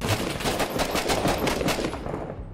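Rapid automatic gunfire crackles in the Six Days in Fallujah video game, a dense, loud burst of shots lasting about two seconds before fading, with no talk over it.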